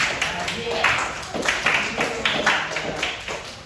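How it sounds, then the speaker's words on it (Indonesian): A classroom full of students claps together in a steady patter of applause, with some voices mixed in. "Tepuk tangan untuk kalian semua"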